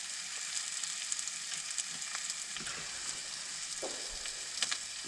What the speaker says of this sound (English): Never had a fried up bratwurst for breakfast before